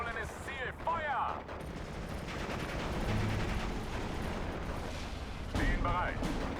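Artillery fire in the Steel Division 2 game on the 1944 Eastern Front at Orsha: heavy, rumbling booms and crackling blasts roll continuously at high volume, with game voices heard briefly.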